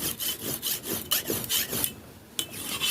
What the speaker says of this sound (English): to sharpen, so that I can sharpen the panga